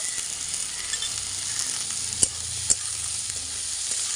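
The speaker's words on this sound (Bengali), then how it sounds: "এবার আমি ভেজে নেব সাদা তেলে।" Vegetables with a spoon of salt fry in hot refined oil in a wok, giving a steady, close sizzling hiss broken by two sharp clicks of a utensil.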